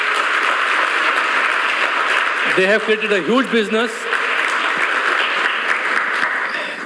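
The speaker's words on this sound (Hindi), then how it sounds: "उनके जोरदार तालियां." Loud, sustained applause fills a business event hall as founders are honored; someone speaks briefly over the clapping in the middle before the crowd noise continues steadily to the end.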